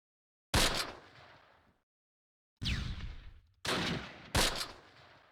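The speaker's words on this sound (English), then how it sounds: "Rifle fire." Rifle fire in the WWII strategy video game Close Combat, four sharp, loud shots with echoing tails, spaced irregularly with brief silences between them and no talk.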